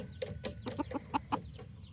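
Several chickens clucking in short, uneven bursts nearby, soft murmuring calls overlapping with a few louder clucks.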